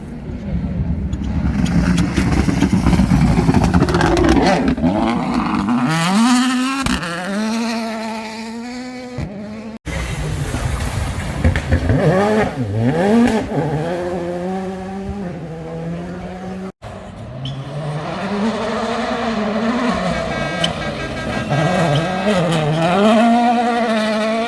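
A rally car pushing hard on a gravel stage of WRC Wales Rally GB 2019 gives a loud, continuous engine howl that rises and falls through gear changes. Two brief cuts break the sound, and no one speaks.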